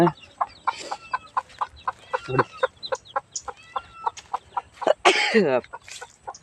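Hens lead their chicks around the yard, giving a steady run of short, evenly spaced clucks close by, with chick peeps mixed in and a louder squawking burst near the end.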